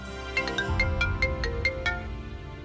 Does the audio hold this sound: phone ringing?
yes